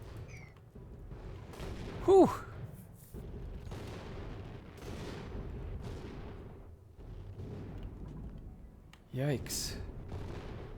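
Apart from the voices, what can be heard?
big explosions booming in a video game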